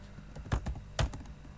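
Two or three distinct keystroke clicks on a computer keyboard during code editing, spaced irregularly and fairly close, with quiet room tone between them.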